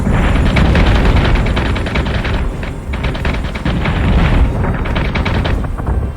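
Loud, relentless space-battle gunfire and missile blasts in Battlestar Galactica Deadlock, rapid crackling shots and booming explosions piling over one another without pause, close and dense throughout.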